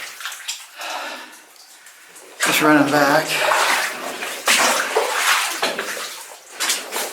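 Boots wade and splash through deep, muddy water inside an old underground mine in Southeast Asia. The sloshing is close, uneven and continuous, with someone talking over it.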